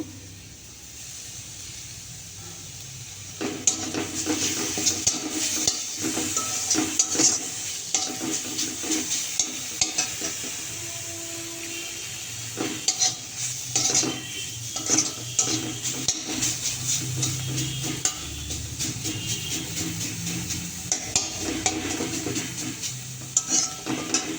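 Capsicum and carrot being stirred into frying onions and oil in a pan, a steady sizzle with repeated scraping stir strokes and clinks of a spoon against the pan, close and continuous.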